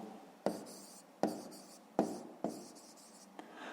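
A math answer is written out by hand with a pen on paper, close and faint, in four or five distinct bursts of scratchy strokes, each beginning with a light tap, and no one speaks.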